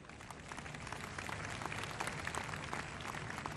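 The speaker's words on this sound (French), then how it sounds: "Qu'on les applaudisse, s'il vous plaît." An audience applauds at the closing ceremony of the 2017 Jeux de la Francophonie, a steady, even wash of many hands clapping, faint and distant throughout.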